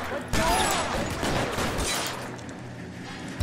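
A shootout in L.A. Noire, with bursts of gunfire and rapid shots cracking close and loud, followed by echoing ricochets and debris that fade out, then a final sharp shot at the end.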